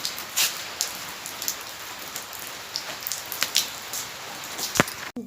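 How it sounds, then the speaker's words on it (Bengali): Light drizzle patters steadily on a surface on a Holi day, with scattered louder drips and splats over a soft constant hiss, no voices. "ছিটির ছিটির বৃষ্টি হচ্ছে"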